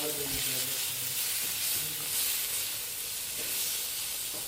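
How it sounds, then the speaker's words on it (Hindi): Chopped cabbage and cauliflower frying in oil in a pan, a steady loud sizzle and hiss with occasional stirring clatter and faint talk underneath. "ऑयल में हल्का सा भून लेना है।"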